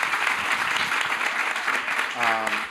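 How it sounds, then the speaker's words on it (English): An audience at a climate week event on the urban wild breaks into a round of applause, dense steady clapping filling the room throughout, with a voice briefly audible near the end. "Please, let's give it a round of applause."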